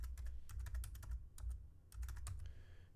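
Rapid typing on a computer keyboard, a close, quiet burst of crisp key clicks in quick irregular clusters with short pauses between them.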